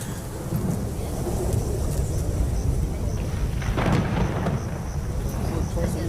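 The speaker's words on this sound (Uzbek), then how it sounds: "Bu momaqaldiroqlar g'azabingni ko'rsatuvchi bir ishoratdir." Thunder rumbles low and heavy through steady rain, a deep rolling swell that builds through the middle and lingers, with a brief crackle partway.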